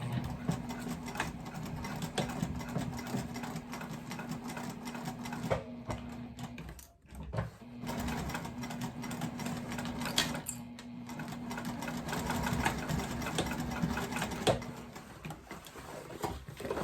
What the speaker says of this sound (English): now I'm just gonna stitch across this, back stitching really well, again, at the beginning and the end at a 1/4 inch